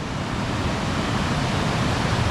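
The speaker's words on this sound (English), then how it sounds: "it's not just the waterfalls, it's all the little cascades" Cascading water from waterfalls and small cascades in nature, a loud, steady, broadband rushing roar that holds without pause or change.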